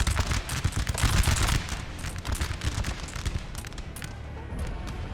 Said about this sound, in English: You got the Austrian, yeah, artillery firing away.